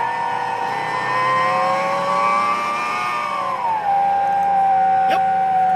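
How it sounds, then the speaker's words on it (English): A Lamborghini V10 engine revs loudly and close, its tone climbing and holding high, then easing down to a steady, sustained drone, with no talking. "Yep, nothing like the sound of a Lambo V10"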